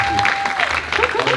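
Brief burst of clapping from a crowd, with a voice speaking over the applause.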